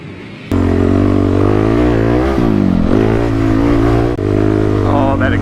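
A Ram TRX pickup with a freshly fitted exhaust revs loudly up close, its deep engine note rising and falling through several throttle blips in one sustained roar.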